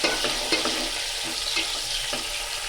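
Two small onions sizzle in hot oil inside a pressure cooker, a steady loud hiss and crackle with a few soft stirring knocks.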